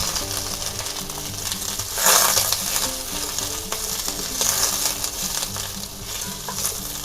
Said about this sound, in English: Alright, let's stir fry our onions.